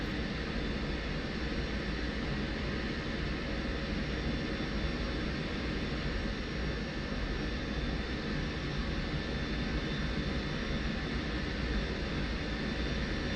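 An F-16 jet engine held on the brakes and run up to just above idle in DCS World, a steady, dense whine and roar that stays constant and loud throughout with no voices.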